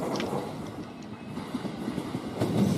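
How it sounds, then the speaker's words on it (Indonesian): A toy train runs along its rails with a continuous rumbling, clattering roll, close by and fairly loud, with no talking. "Pas lagi jalanin keretanya."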